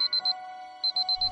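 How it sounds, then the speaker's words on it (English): An alarm clock rings in a movie trailer scene, with two bursts of rapid, bright, high-pitched electronic beeping separated by a short pause, loud and close. "I am not getting up till the alarm clock goes off."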